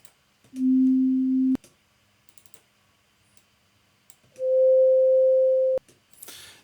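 A sustained flute note rings out clearly for about a second and a half, steady and bright with strong harmonics, preceded by a separate lower steady tone.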